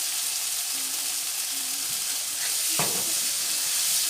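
Tomato for macaroni with salt cod cooks in a pan with a dense, loud, steady sizzle, and a brief stirring scrape near the end.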